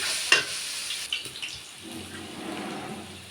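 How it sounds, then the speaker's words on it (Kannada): Tamarind rice seasoning frying in a pan gives a soft sizzle with a few sharp clinks and stirring scrapes early on, then settles into a faint low hiss. "ಸ್ವಲ್ಪ ಫ್ರೈ ಮಾಡಿದರೆ ಇದು ಮುಗಿತು"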